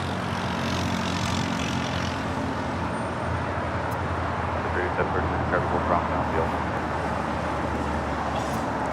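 A Nippon Cargo Boeing 747 jet at Los Angeles International Airport rolls down runway 25 right, a broad, distant roar that stays steady under a voice talking.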